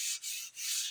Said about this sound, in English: this Madagascar rosewood is sanding very, very quickly